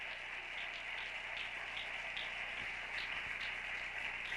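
A church congregation applauds together during a Spanish-language sermon, producing a steady, dense wash of clapping that holds at an even level throughout, with no voices clearly heard.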